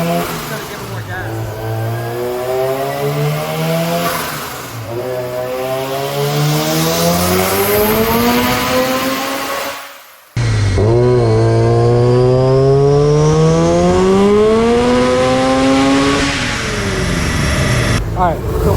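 A rotary-engine Subaru BRZ on a dyno running E80 fuel revs loudly in two long sweeps, each climbing steadily in pitch before cutting off, with a brief gap between pulls and some voices under the roar.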